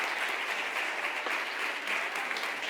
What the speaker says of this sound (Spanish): Un fuerte aplauso para José Ramón